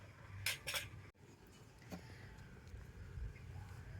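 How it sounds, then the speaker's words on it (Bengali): A cover being lifted off a bowl of rested batter for a mango poa pitha: two quick clinking, scraping sounds close by, then a brief knock against a quiet kitchen background. "তো এবার আমি ব্যাটার থেকে ঢাকাটা খুলে নেব।"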